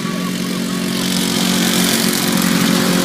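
Racing lawnmower engines drone loudly and steadily at a Southern Show race meeting, a buzzing high-revving whine holding constant and building slightly, with no talk.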